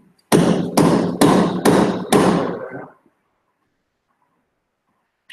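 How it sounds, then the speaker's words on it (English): Five heavy, evenly spaced blows from a dead blow hammer land in quick succession while working on a Mk 1 Ford Escort engine and gearbox, each a loud, close, dull thud, then silence. "Good old dead blow hammer."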